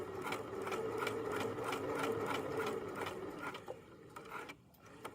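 A sewing machine stitches through fabric in a steady rapid mechanical rhythm, running close and loud before slowing and pausing near the end, with no voices.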